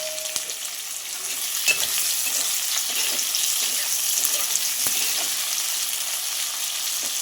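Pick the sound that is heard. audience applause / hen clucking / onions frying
onions frying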